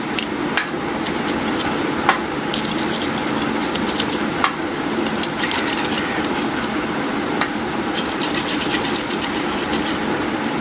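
A brush scrubs the bowl of a Honda Pridor motorcycle carburetor with petrol, giving a steady, dense scratching rasp with a few sharper knocks, close and continuous for about ten seconds with no talk.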